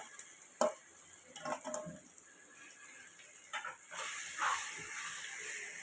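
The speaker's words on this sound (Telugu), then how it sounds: "ఈ వేడి మీదే మిక్స్ చేసుకోండి బాగా." A mango pickle mixture is stirred in a hot pan just taken off the stove, giving a steady hiss with scraping strokes and a louder sizzle in the second half, close by with no talking.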